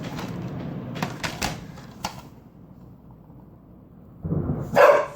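A dog indoors barks in several sharp, separate bursts at lightning during a flooding storm, followed by a quieter stretch and then a louder rustling clatter close by.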